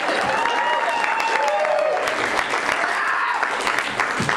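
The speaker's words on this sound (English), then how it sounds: "This is when you clap." An audience at the inaugural launch party for a new Youngstown online magazine, Jenny, breaks into dense, sustained applause for several seconds, with a faint melodic tone drifting underneath the clapping.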